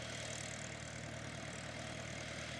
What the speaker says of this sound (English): This is one of our Farmall tractors.